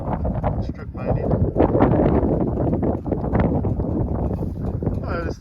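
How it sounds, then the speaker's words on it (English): Strong wind buffets outdoors near the old Neeson settlement area, a loud rushing gusty roar with microphone buffeting throughout, rising and falling in intensity. "It's windy out here."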